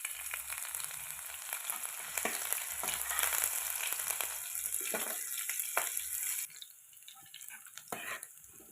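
Chillies going into hot oil for an egg curry crackle with a steady, close sizzle that fades partway through and leaves a quieter hiss.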